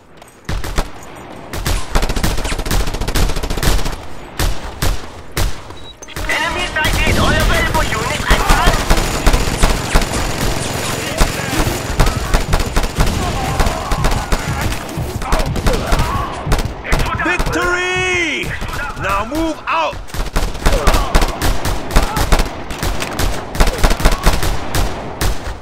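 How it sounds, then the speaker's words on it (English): A mounted machine gun fires in the video game Just Cause 2, long loud bursts of rapid gunfire with scattered shots and explosions, a voice shouting over the battle. "Mounted gun!"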